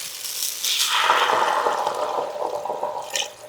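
Water pours steadily into a pot of lentils and tomatoes, a close splashing gurgle that rises as the stream hits the pot, then settles into a bubbling rush before tapering off, with no speech.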